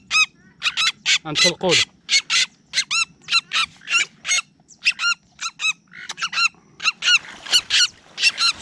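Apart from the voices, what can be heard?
trapped wild duck calling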